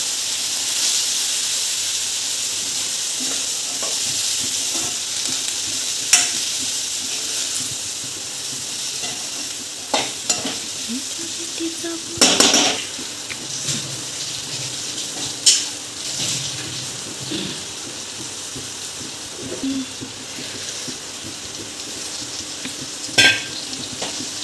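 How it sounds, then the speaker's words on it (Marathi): Fresh cashew seeds frying and being stirred in a pan with red chili powder, turmeric and red masala, a steady close sizzle and hiss broken by occasional scrapes of the spoon. "लाल तिखट, हळद, आपला लाल मसाला आणि हळद टाकून हलवून काजूच्या बिया मस्त"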